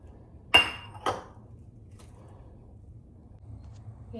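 A small bowl set down to soak with vinegar makes two quick close clinks about half a second apart, then a faint tap in a quiet room.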